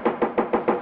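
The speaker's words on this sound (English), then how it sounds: "Someone's nailing something on the door." Hammering a nail into a door: five quick, evenly spaced knocking blows, close and fairly loud, with no talk over them.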